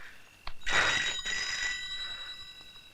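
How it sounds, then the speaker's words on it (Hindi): An old-style telephone bell rings for an incoming call indoors, a single bright, jangling burst of about a second that fades into a lingering ringing tail. "ले आ गया तेरे बाप का फोन"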